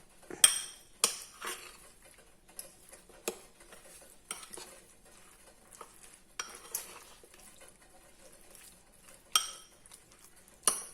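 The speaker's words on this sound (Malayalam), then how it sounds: "തൈര്, നല്ല പുളിയില്ലാത്ത കട്ട തൈര്. ഇളക്കി വെക്കാം." A spoon stirs thick, non-sour curd in a bowl, producing faint, irregular clinks and scrapes against the bowl with soft pauses between them and no talking.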